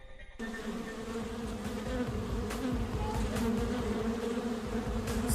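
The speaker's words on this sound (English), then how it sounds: "The buzzing of bees is one of the great sounds of summer." Bees buzzing in summer, a close, steady droning hum that begins abruptly and holds unbroken throughout with no talking.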